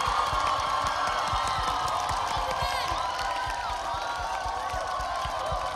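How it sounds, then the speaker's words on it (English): An audience at an outdoor sunset carol concert applauds and cheers for a dance troupe, with steady crowd clapping and scattered whoops that hold evenly throughout. "Please show them some love and give them a huge round of applause."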